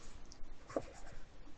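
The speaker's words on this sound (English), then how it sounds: "I'm just going to use a pencil" A pencil sketching a character drawing on paper, with soft, faint scratchy strokes heard up close and alone in a quiet room.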